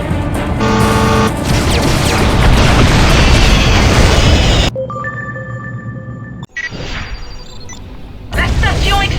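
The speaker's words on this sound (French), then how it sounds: "La station explose!" Space station exploding in the video game Freelancer, a loud dense roaring blast with rumbling debris that cuts off abruptly, followed by quieter tonal hums and a second burst near the end.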